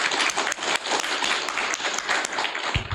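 Audience applause after a physics talk on angle-resolved transport in rhombohedral multilayer graphene: a dense, steady round of many hands clapping, fairly loud and close, sustained for the full stretch with no talk over it.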